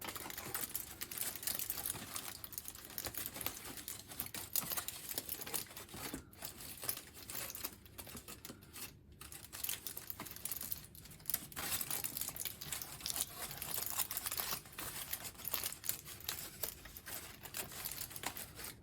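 Material squished up by hand while building, a continuous close crinkling and crumpling rustle with small crackles throughout.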